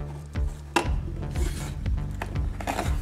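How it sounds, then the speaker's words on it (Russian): The lid of a new plastic carry case for an MOP-2 jackhammer from the Tomsk plant is opened, with close scraping, rubbing and hollow plastic knocks and a sharp clack, no voices. "Открываем крышку и смотрим,"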